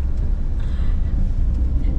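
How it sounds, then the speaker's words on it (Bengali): Car on a hilly road trip route in Koraput, Odisha, giving a low, steady engine and road rumble heard from inside the vehicle, close and continuous with no voices. "আমার একেবারে তুমি সামনে থেকে গাড়িটা ঘুরিয়ে নাও"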